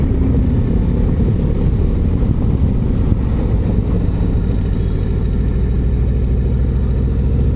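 A 2025 Harley-Davidson CVO Road Glide cruises in fourth gear, its low, steady engine rumble mixed with road and wind noise, continuous and close throughout.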